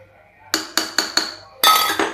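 While ghee goes into a pan for dal khichdi, a metal spoon clinks sharply against it, four quick evenly spaced taps followed by a brighter, ringing double knock, close and clear with no talk.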